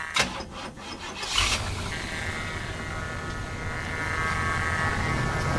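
An old, rusty car engine, already warm, cranks with a few rough bursts, then catches and settles into a steady, continuous idle drone heard from just outside the car.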